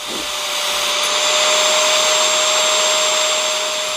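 A small rotary trimming tool grinds off screws on a GoPro Wi-Fi remote mount, a steady high-pitched motorized whine running continuously and loud throughout, close by, with no voices.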